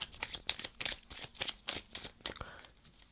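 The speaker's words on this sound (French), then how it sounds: "je remélange pour pas retomber sur les mêmes" Tarot cards being reshuffled, a quick series of crisp riffling and slapping bursts in a close, quiet room, with no talking.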